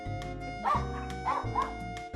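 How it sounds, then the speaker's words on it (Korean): A dog barking at a visitor, several sharp barks and yips in quick, irregular succession over a steady low background hum, fairly close and without speech. "외부인이 오자 짖느라 정신없는 녀석."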